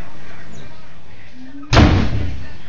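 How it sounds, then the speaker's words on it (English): A door in a home slams shut with one sudden, loud, close thud after a quiet stretch, and its boom rings briefly in the room. "You don't need to slam it."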